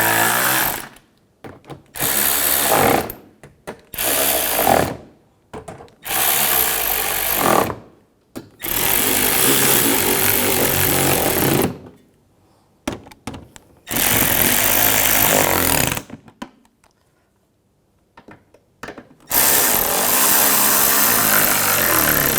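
A power tool tightens bolts on the front bumper of a 2006–2010 BMW 550i, firing in loud, close bursts of rattling impact, some brief and some sustained for several seconds, separated by silent pauses.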